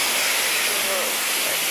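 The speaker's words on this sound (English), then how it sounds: "Oh, that's sizzling up." Jackfruit curry ingredients and gravy sizzle loudly in a hot pan, a steady dense hiss running throughout at close range with no pauses.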